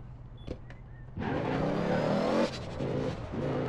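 A car revving and driving in the APB Reloaded online game, a steady engine roar that kicks in after a second of quiet and holds loud and close to the end, with no talk over it.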